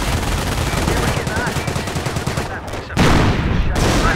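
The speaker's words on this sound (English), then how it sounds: "Notice the Panzer's slow rate of fire." In the World War II strategy game Company of Heroes, a Panzer tank and infantry fire in a dense, loud barrage of rapid crackling gunshots that barely pauses, with a brief dip before the shooting swells again.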